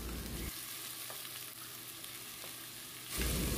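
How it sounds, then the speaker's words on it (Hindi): Chicken pieces roasting in a pan for a restaurant-style chicken ghee roast, giving a steady close sizzle throughout with louder bursts at the start and end, likely from stirring, and no voices. "चिकन को हमें तब तक भूनना है जब तक इसका कलर चेंज नहीं हो जाता है।"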